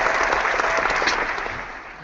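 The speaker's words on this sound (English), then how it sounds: "all the applause." A crowd claps and cheers steadily, a dense wash of applause that slowly fades.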